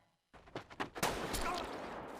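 Gunfire in a scene from the Squid Game series: a few sharp cracks, then a loud shot ringing out into a sustained noisy wash, with a faint voice underneath.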